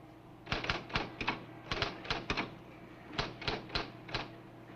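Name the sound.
typing on a quiz machine keyboard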